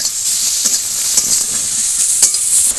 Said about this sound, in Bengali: আমি আরও একটু তেল দিয়ে পেঁয়াজ আর লঙ্কা একটু ভালো করে ভেজে নেব